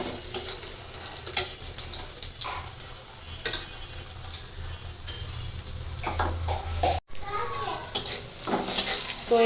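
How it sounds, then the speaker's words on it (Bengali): Dried fish (shutki) and onion frying in a home kitchen pan, a steady broad sizzle running throughout, with background voices and children's chatter and a brief dropout near the end. "তো এই যে আমার শুটকি আর পেঁয়াজটা ভাজা ভাজা হয়ে গেছে"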